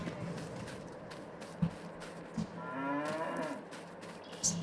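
Cattle in the farming game Farming Simulator 22 moo loudly and close by, with a long low call standing out over steady farmyard ambience and a few short thumps.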